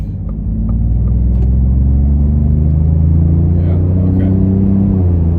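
A 2021-or-newer Ford F-150 fitted with a Windbooster throttle controller set to drag mode pulls away with a loud, steady low engine rumble that builds and holds close by, with faint voices talking over it.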